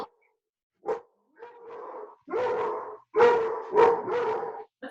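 A big dog gives a few barks and yelps at moderate distance, starting with single short calls and building into several louder barks in quick succession.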